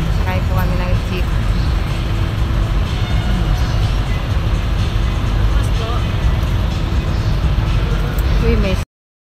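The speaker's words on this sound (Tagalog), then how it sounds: "Ayan, sakay po kami ng jeep." Inside a jeepney riding through Manila traffic on the way to Quiapo: a loud, constant rumbling engine drone with road noise and the clatter of the open vehicle, while someone speaks over it.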